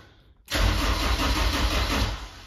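A car with a suspected battery or voltage fault cranks briefly, then fires and settles into a loud, steady running engine close by, with no talk over it.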